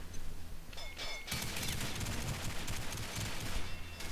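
Rapid submachine gun fire in the online shooter Combat Arms, a dense continuous burst of shots starting after a quieter moment and running to the end, loud and close.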